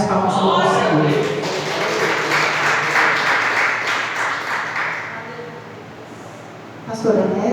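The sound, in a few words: congregation applause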